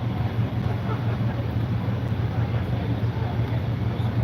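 Steady wind rush and low rumble while riding an open-top bus through town, a continuous breezy roar close to the microphone throughout.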